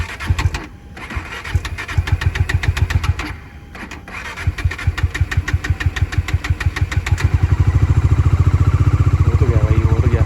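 A motorcycle in freezing cold at Pang in Ladakh, with frost on the seat, cranks with rapid starter chugging through several attempts before catching. It settles into a loud, steady, close idle.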